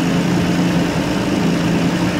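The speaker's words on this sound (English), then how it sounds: "I just literally just turned on the car." A car fitted with a VQ35 V6 engine idles steadily just after being started, a continuous low engine drone that stays constant throughout with no talking.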